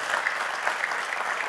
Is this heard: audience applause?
yes